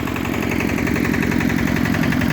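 A walk-behind motor tractor with a floating gearbox runs while tilling soil, its engine chugging loudly and close in a fast, steady pulsing rhythm that never lets up.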